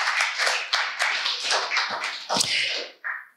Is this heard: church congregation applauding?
yes